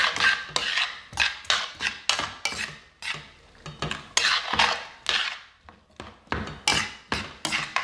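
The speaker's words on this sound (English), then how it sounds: "And put it back on the heat and give it a stir." A utensil scrapes and clanks repeatedly against a pan while a cornstarch-thickened sauce for spicy shrimp is stirred, giving a close, rhythmic series of sharp metallic strokes with brief pauses between them.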